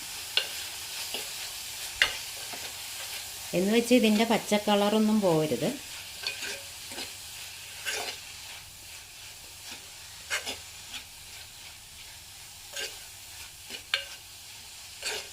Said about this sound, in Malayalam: നല്ലപോലെ ഒന്ന് ഇളക്കി കൊടുക്കണം ഈ ഇല ഒന്ന് വാടി വരണം